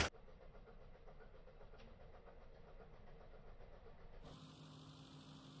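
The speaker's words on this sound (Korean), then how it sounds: "에어컨을 켜서 그런지 차 소리가 유달리 시끄럽네요" A SsangYong Korando idling with its air conditioner running, a steady low engine drone and fan whir heard up close and unbroken, its tone shifting noticeably near the end as the fan cycles.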